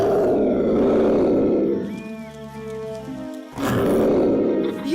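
A cartoon panther, Bagheera, gives a deep, loud roar that builds, then drops to a low growl before a second roar surges in near the end, with no talk over it.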